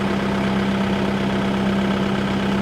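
A Kubota 5502 4x4 tractor engine idles steadily with a constant low drone and hum, close and unchanging throughout.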